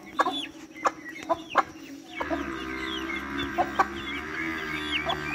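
A hen clucks in short repeated bursts near duck chicks in a farmyard, joined by softer chirping and other fowl calls over low background noise.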